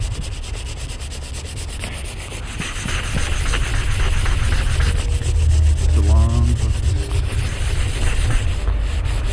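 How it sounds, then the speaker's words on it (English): Hand sanding on the spoiler area of a Nissan 350Z, a continuous close rasping rub with steady back-and-forth strokes, growing slightly louder midway, with a brief squeak-like tone near the middle. "Sanding is a process"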